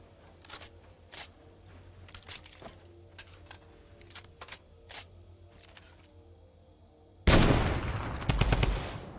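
In Fortnite, scattered single shots crack at a distance over a quiet background, then a loud close burst of rapid automatic fire erupts near the end, dense and sustained for about two seconds.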